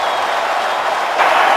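Broadband roar of a packed stadium crowd at a Chiefs home game against the Browns, a steady wash of cheering and noise that swells louder near the end.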